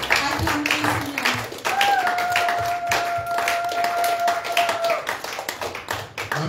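A church congregation claps steadily in praise of the Lord at a lively service. Many hands beat in a fast, even rhythm, with sustained voices carrying over the clapping.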